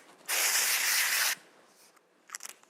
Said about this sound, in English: And then I'm going to give a little spray